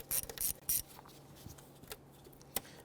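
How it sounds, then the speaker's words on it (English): An 8mm socket on a ratchet loosens the hose clamp on the air intake tube of a 2008-2013 Infiniti G37 3.7L V6, giving a quick burst of close ratcheting clicks, then scattered faint clicks and rubbing. "Using an 8mm socket, we're going to loosen our hose clamp for our air intake tube to our throttle body."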